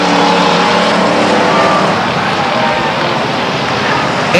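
Race cars at Stockton 99 Speedway in 1999, engines roaring loudly and continuously as the field passes close by, with a faint commentator voice under the engine noise.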